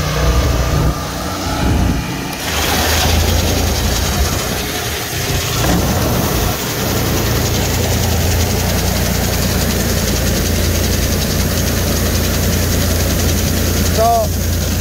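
A grain auger unloading grain at a terminal, droning steadily with a deep mechanical hum throughout, while a person talks over it.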